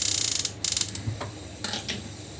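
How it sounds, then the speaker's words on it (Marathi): A gas stove igniter ticks rapidly in a quick mechanical run, pauses, clicks again in short bursts and then falls quiet, close and moderately loud. "आता गॅस आपल्याला चालू करायचा आहे"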